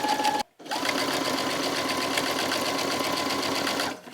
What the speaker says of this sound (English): Just sew all the way across.